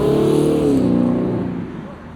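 A teal Chevrolet Trailblazer SUV pulls away nearby, its engine a steady close rumble that fades gently as it leaves.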